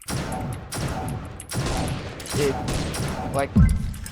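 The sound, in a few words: Dead Star gun firing in Pixel Gun World video game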